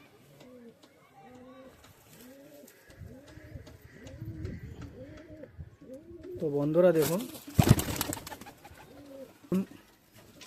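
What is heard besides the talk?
pigeons cooing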